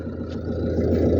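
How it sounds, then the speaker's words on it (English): A steady, low diesel engine idling at about 900 RPM close by, from a 2009 Ford Fusion 1.4 TDCi, a constant rumbling hum with no change in pace. "Idling at about 900 RPM, which is correct."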